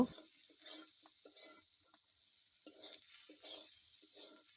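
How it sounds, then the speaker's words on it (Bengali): Quiet sizzling of mung dal frying in a pan with salt and turmeric, with soft scraping and stirring sounds in short bursts, faint and close. "এবার কিছু সময় ধরে ভেজে নিব"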